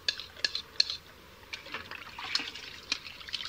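Egg yolks and olive oil are stirred into about 1.5 gallons of water for a hide-tanning mix, giving wet sloshing and trickling splashes in uneven bursts, close and fairly quiet, with no talking.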